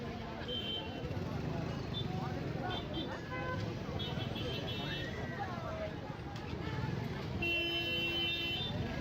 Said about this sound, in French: Ça klaxonne